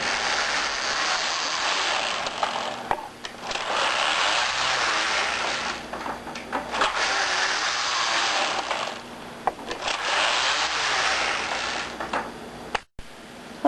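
A Passap E6000 knitting machine works single bed stitch pattern A, giving a loud, continuous mechanical whirr and rattle that rises and falls as the carriage makes repeated passes, with a sharp clack near the end.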